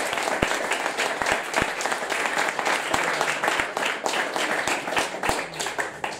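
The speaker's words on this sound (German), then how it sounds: "Ich denke, das ist ein kleiner Applaus." Applause from an audience at a football club talk evening: steady crowd clapping with a few sharp, close individual claps standing out, continuing for several seconds with faint voices underneath.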